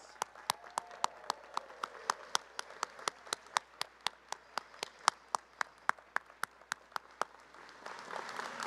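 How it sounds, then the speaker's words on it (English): Families and friends of graduates receive applause at an engineering master's hooding ceremony: a steady run of evenly spaced, fairly sharp claps, moderately near, with a broader spread of clapping swelling toward the end. "Graduates, let's give them a great round of applause."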